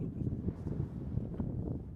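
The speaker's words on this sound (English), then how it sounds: "It is so windy out here" Low, steady rumbling buffets of wind batter the microphone outdoors, fairly quiet overall with no clear voices.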